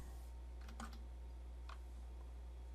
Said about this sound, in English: In B3, I'm going to type disk question mark.